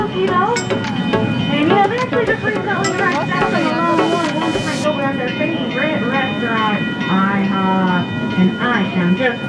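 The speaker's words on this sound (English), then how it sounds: "Now here we go through the train crossing." Small zoo train rolling through a crossing, with a rumbling ride, clanking, and a ringing bell or whistle tones, under an announcer talking almost continuously.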